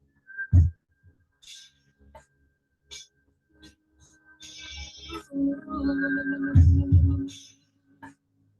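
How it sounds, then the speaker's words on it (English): Breathy whistling on both the in-breath and out-breath during a Kundalini yoga breathing exercise, short tonal whistles in a quiet room, alone without talk. "So you whistle both in breath and out breath."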